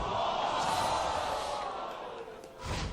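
Crowd at a League of Legends esports match, Team Liquid versus Counter Logic Gaming in the NA LCS, reacting with a loud, sustained roar and murmur that dips briefly near the end, then swells back up.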